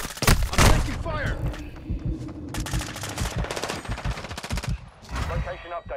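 Gunfire in Call of Duty Modern Warfare II Hardpoint on the Shoothouse map: loud close bursts of automatic fire in rapid rhythmic volleys, with a few heavier thumps, under game voice callouts.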